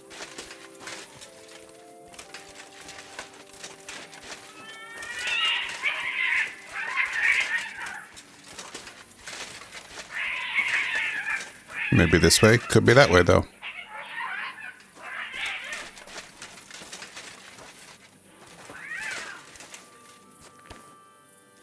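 Faint cat meows recur at intervals amid ambient game sound in Kingdom Come Deliverance II, with a person talking over them and a brief loud burst of noise partway through.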